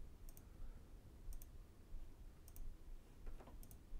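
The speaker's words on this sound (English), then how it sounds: "right click" Computer mouse clicks heard while working in drum sampling software, quick paired clicks repeated about four times, faint and close against a quiet background hum.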